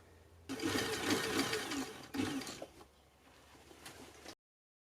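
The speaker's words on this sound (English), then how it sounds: "So I try and sew all of this part top to bottom" A sewing machine stitches a corset dress lining in a loud, continuous whirring run that pauses briefly, restarts, then fades out, with no voices.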